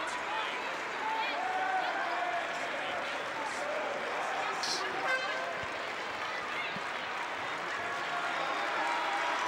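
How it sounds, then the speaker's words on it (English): A crowd at a high school girls' basketball championship game, Quincy Notre Dame fans, gives sustained applause and cheering as a player fouls out. The steady wash of clapping runs throughout under a commentator talking. "She'll get a big hand from the Quincy Notre Dame crowd"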